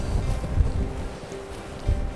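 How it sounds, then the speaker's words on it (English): Wind buffets the microphone on the cold, rainy coast at Elliston, South Australia, a loud, rumbling roar with low gusts that swell and ease over a few seconds. "It's cold and raining and windy."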